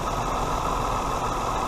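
A Toyota engine idles during a coolant change, giving a steady, fairly loud mechanical hum with a faint knocking texture that holds even throughout, with no voices.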